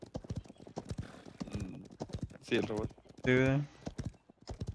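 Rapid, steady clip-clop of horse hooves rings out close in the video game Paladins, a brief whinny rising midway, while people talk over the galloping rhythm.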